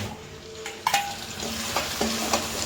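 Potatoes tossed into a pan of frying spice masala, with a clatter as they land followed by scattered spoon scrapes and clinks over a soft continuous sizzle, heard up close without speech.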